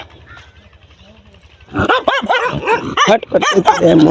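Dogs at a village farm give a burst of sharp, close barks and yelps in quick succession after a quiet opening.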